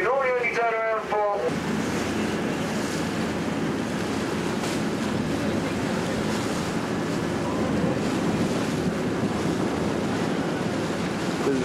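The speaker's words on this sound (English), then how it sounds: "it's very windy here in Aruba" Steady roar of wind buffeting the microphone over crashing surf on the coast of Aruba, loud and continuous, with a brief harmonic tone at the very start.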